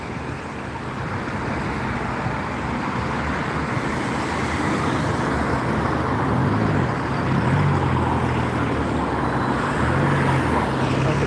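A bus passes in steady road traffic in Gloucester. A broad, continuous engine and tyre rumble swells gradually, with a low drone rising toward the end and no talking.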